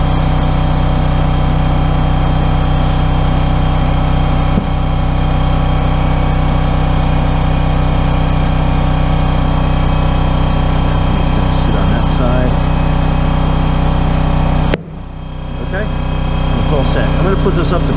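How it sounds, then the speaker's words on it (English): An air compressor kicks on and drones steadily and loudly while a large tire is inflated with a Bead Blaster bead-setting tool, then cuts out briefly near the end and builds back up. "And you want to quickly put air in it. So, and the compressor's going to kick on."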